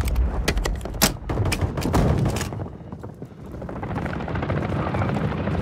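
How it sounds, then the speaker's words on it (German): A cargo helicopter approaches in a video game battle, its steady rotor roar filling the scene, with sharp thuds and impacts standing out early and then a denser, continuous drone. "Frachtheli ist im Anflug."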